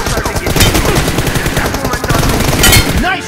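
Rapid video game gunfire crackles in dense bursts throughout, loud and close, with a voice briefly audible beneath the shooting.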